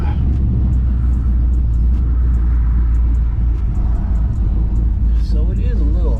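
A 1964 Chevy with newly installed power disc brakes rumbles along on a test drive, a low continuous engine and road drone heard from inside the car, with faint ticks and rattles above it.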